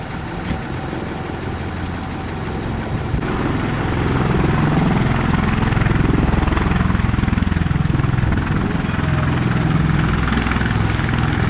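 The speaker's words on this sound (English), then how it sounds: "It's a Osprey, whatever they call that hovering plane." An Osprey tiltrotor aircraft hovers nearby with a steady low propeller drone and rumble, building in loudness after a few seconds and holding a constant heavy whir outdoors without speech.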